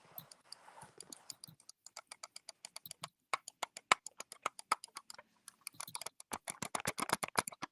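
Quick irregular clicks from a computer mouse, close and fairly quiet, coming in sparse taps at first, then denser bursts, with no talking.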